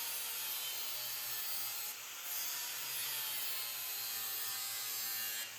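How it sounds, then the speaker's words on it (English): A hand file rasps back and forth along a Ferris 500S zero turn mower blade to sharpen it, a close, steady scraping hiss that pauses briefly, then continues. "I go back and forth along the length of the blade until I have a new crisp edge"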